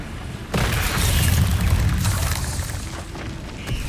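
Confringo explosion spell in the Hogwarts Legacy video game, a sudden loud boom followed by a sustained rumbling blast and crackling debris, with no voices.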